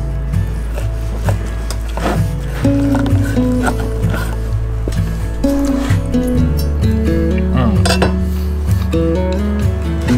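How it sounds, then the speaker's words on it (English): Knife-on-board chopping of carne asada beside a campfire: irregular clinks and taps ring over a steady low rumble, close and fairly loud, with no talk. "I'm just gonna go ahead and kind of chop it up like this."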